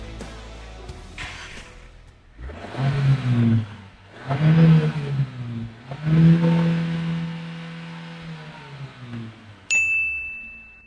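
A Jaecoo J7 car engine revs up hard several times in rising surges, loud and close, ending with a bright electronic chime.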